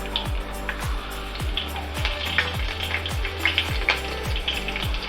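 Steady sizzling and crackling of green chilies frying in hot oil with mustard seeds and cumin, with a low rhythmic mechanical hum repeating underneath and no speech.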